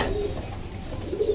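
A pigeon coos close by in soft, low throaty pulses, with quiet ambient noise around it.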